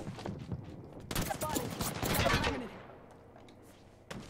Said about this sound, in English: Airstrike danger close.